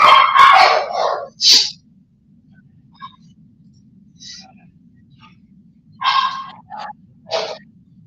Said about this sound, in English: Sorry guys, if you guys can hear my dog's barking.